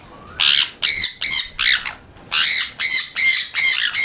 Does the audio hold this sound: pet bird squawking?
yes